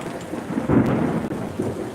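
Thunder from a close lightning storm, a heavy rumbling crack swelling partway through over steady rain hiss, loud and near, with no voices.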